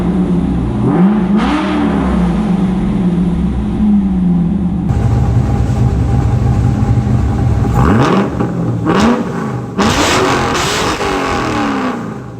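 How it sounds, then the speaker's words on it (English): A supercharged Corvette engine revs repeatedly in a loud, close, steady roar, rising in sharp bursts near the end. "Let's go ahead and rev it up here."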